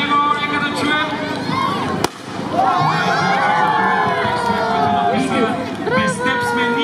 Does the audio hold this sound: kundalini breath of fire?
no